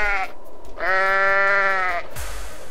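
A goat in the video game Goat Simulator lets out two loud, drawn-out bleats close up, a short one followed by a longer sustained cry, then a low thump.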